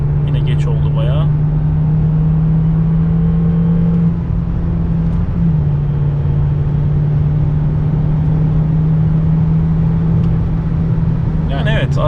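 A 2019 Volkswagen Jetta in eighth gear pulls under acceleration with a steady droning engine hum and road roar from inside the cabin, while someone talks over it.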